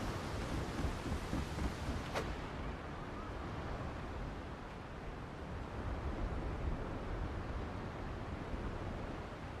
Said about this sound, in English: It's still raining, but it is day.